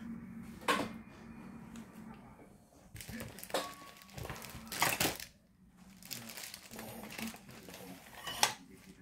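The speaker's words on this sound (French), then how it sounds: "J'aime pas le bruit du papier." Intermittent crinkling and rustling of paper, with sharp crackling bursts between quieter handling noises, close by.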